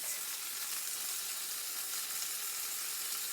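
Chicken legs fry flat under a press, giving a dense, constant crackling sizzle that stays close and even throughout, with no voices.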